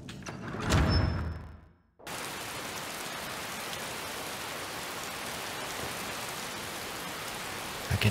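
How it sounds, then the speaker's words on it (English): Steady rain falls outside a cave in the video game Blades of Redemption, a dense, even hiss that starts abruptly after a brief louder swell and then holds constant and fairly loud to the end. "I can feel the rain."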